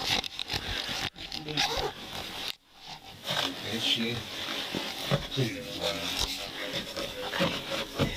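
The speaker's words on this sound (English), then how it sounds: "She went to the camera to try to zip down this right here." A clothing zipper being pulled down, a rough scraping rasp buried under loud, continuous talking and rustling close to the microphone.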